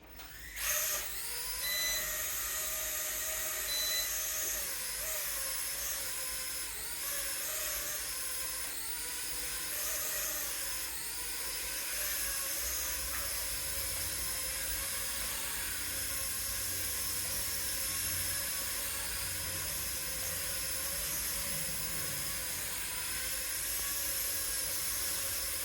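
A Q9s drone flies and spins with a steady, loud, high-pitched motor whine that continues without a break, its pitch wavering slightly as it moves.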